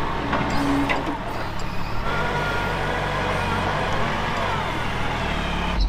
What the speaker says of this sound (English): All right, so he's getting the telehandler out.